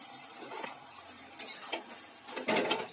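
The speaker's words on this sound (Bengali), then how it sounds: "এটাকে নেড়ে একটু জল করে দেব" Bottle gourd curry stirred in a pan with a spoon or spatula, giving a few scattered scraping clinks against the metal, with sharper louder scrapes near the end and a soft background hiss between them.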